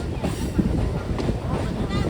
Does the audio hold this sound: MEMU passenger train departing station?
yes